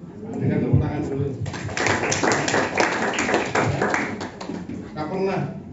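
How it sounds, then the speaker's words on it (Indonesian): Church congregation clapping together during a Sunday worship service with Holy Communion, a dense, steady patter of many hands filling the room, with a preacher's voice and singing-like speech running over and under it throughout. "Dengan tepuk tangan dulu."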